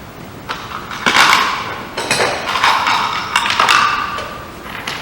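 Clout nails are hammered into GRP roof trim, giving a close series of loud, sharp thuds and taps in uneven groups over a few seconds, with no talking.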